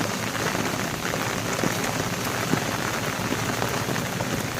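Heavy rain pours steadily onto surfaces beside an outdoor bathing ghat, a dense, even hiss with scattered nearby drips and no pauses throughout.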